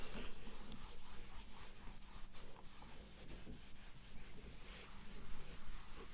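Steady cloth rubbing with rubbing alcohol over an old dirty cardboard record jacket, a continuous light scrubbing texture close up, with no talk.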